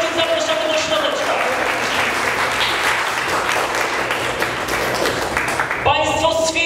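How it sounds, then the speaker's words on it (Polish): A crowd applauds steadily at a tournament in Kraków as the judges are welcomed, the dense clapping continuing throughout with some voices mixed in near the end. "Brawa!"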